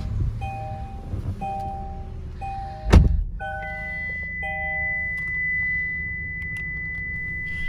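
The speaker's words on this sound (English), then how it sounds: "And start the car." A Kia car is started with a universal key emulator: a few electronic chime tones sound, then a sharp cranking burst, then a low steady engine idle while a thin tone lingers.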